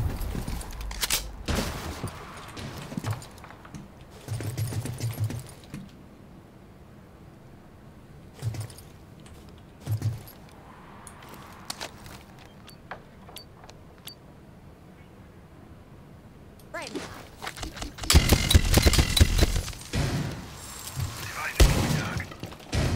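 Gunshots in a shooter video game, one of them fired through a wall, heard as several sharp loud reports and a shattering impact, with a heavier burst of gunfire near the end.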